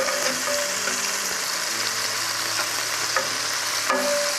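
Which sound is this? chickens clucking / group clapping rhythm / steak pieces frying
steak pieces frying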